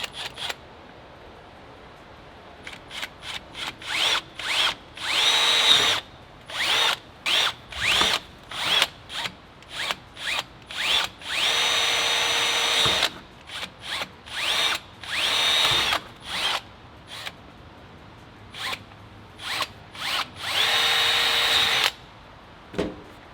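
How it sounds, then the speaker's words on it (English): A power drill with a quarter-inch bit runs in repeated short bursts while installing a Toyota Tacoma accessory mount, whirring loudly up and stopping again and again, with brief pauses between runs. "that's exactly where we're going to use our quarter drill bit to start drilling"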